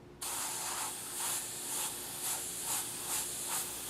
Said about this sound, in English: We're just going to spray over that